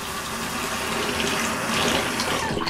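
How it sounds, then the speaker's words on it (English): Water runs steadily onto a tallow shaving soap puck, a continuous splashing trickle with no voices over it. "I just put a little water on the puck."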